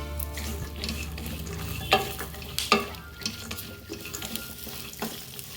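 Cashews and dry fruits roasting in a pan give a soft, dry sizzle under repeated stirring, with sharp scrapes and clinks of a spoon against the pan at irregular intervals, close by and with no talk.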